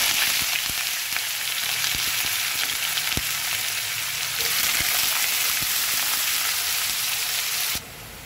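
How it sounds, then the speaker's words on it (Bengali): Onions frying in oil in a pan, giving a bright, dense, steady sizzle with occasional soft ticks of stirring, ending abruptly quieter near the end. "পেঁয়াজটা ভাজা হয়ে গেছে।"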